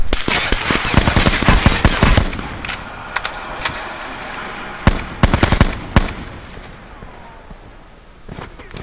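Rapid bursts of SWAT rifle fire in Call of Duty Black Ops 4 Blackout, loud tap-fired shots in quick clusters with pauses between, plus distant gunfire and game sounds.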